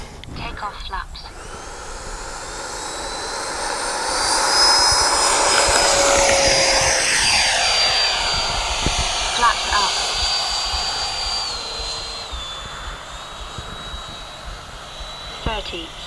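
A Freewing F-22 RC model jet with electric ducted fans takes off, a high whining roar that swells as it passes, then drifts farther off while a voice speaks briefly nearby.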